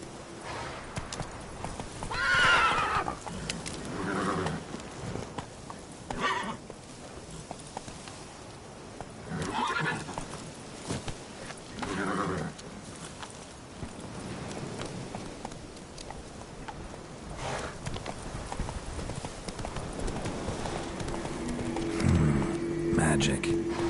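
A horse in The Witcher 3 clip-clops along at a steady gait with several neighs and whinnies through the scene, mixed with game ambience and some talk.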